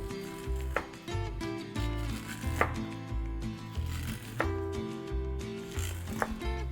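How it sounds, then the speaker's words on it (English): A knife trims kernels off an ear of corn for grilled elote, with a series of close, crisp cutting strokes over a steady low background hum. "Let's go ahead and trim off our corn off the cob here real quick"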